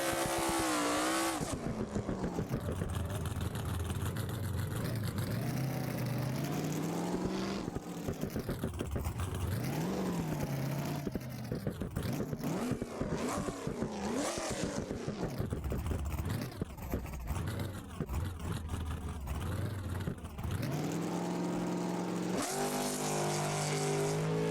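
A race car in the BeamNG.drive video game revs hard through a drag racing pass, engine pitch climbing and dropping through gear shifts, loud and continuous for the whole run with a brief lull near the end.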